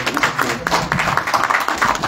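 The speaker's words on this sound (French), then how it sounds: "je demande que l'assistance applaudisse pour cette série" An audience applauding at a diaspora gathering in Paris, a brief burst of dense, close clapping with a few voices underneath.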